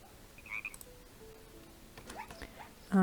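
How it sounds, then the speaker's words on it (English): Frog in Minecraft letting out a few faint, short croaks and chirps scattered over quiet game ambience, ending with a louder burst of sound. "Oh, there's a frog."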